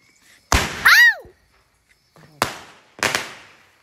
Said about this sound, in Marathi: परी पण फटाके लावते.